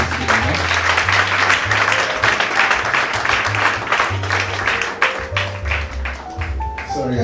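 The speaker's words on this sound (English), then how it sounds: "I think we should start by giving a big round of applause to Joy for putting this together." Audience applause at a cabin crew fair: a sustained wash of clapping fills the room throughout, with voices talking underneath.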